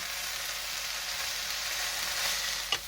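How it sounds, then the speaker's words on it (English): Cabbage stir-frying in a pan for a pork and mushroom stir fry, producing an even, steady sizzle throughout, with a single sharp clatter from stirring just before the end and no speech. "cook and stir fry it until it's tender"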